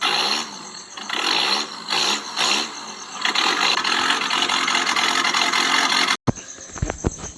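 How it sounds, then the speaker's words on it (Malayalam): Loud, rough engine roar from a modified car fitted with an aftermarket silencer, pulsing with a few revs, then cutting off abruptly near the end, followed by a few sharp clicks. "അപ്പോൾ ഇതാണ് നമ്മുടെ വണ്ടിയുടെ സൗണ്ട് വരുന്നത്."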